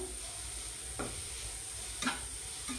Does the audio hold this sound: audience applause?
no